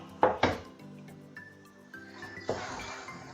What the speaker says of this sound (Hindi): मुस्तकिल चम्मच चलाते जाएंगे और भूनते जाएंगे।